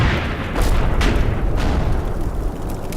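Mortar fire in Combat Mission: Fortress Italy, a New Zealand versus German battle, heard as a steady rumbling barrage with several dull booms around one and one and a half seconds, loud and continuous with no talk.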